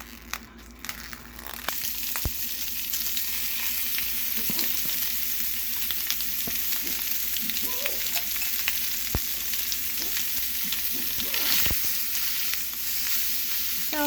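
Italian sausage sautéing in a pan over medium heat, a steady crackling sizzle with scattered scraping and clicking stirs, loud and close.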